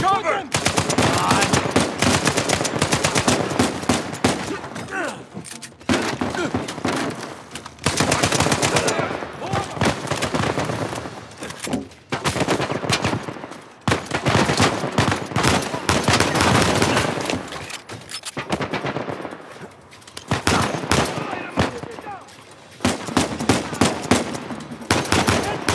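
Rapid bursts of gunfire from a sniper attack in the action game Uncharted 4, loud and dense across the whole stretch, broken by brief gaps, with voices shouting now and then between the shots.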